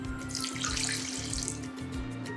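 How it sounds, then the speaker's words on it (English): Water pours steadily from a tap or jug into a pot of lentil soup being cooked, a continuous splashing rush up close over a low kitchen hum, with no talk. "so I'm gonna add a little bit of water."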